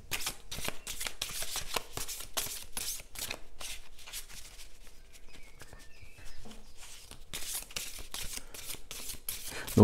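Egyptian healing message cards shuffled in repeated crisp riffles, close and soft, with a short pause midway before the riffling picks up again.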